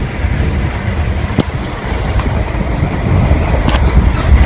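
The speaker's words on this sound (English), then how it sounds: "The carriage is squeaking." A Great Western Railway class 165 carriage rumbles along the track with steady low noise and thin, high squeaks at a few scattered moments, close and continuous with no talking.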